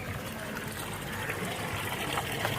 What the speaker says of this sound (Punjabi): ਪਾਣੀ ਭਰ ਰਿਹਾ ਬਾਲਟੀਆਂ 'ਚ